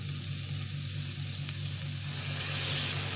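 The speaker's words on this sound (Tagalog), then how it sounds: "And then, mag-a-add po ako ng boiled water" Boiled water poured onto salted rice in a cooking pot for vegetable soup, a loud, steady rushing hiss like hard sizzling that stays close and unbroken, swelling slightly toward the end.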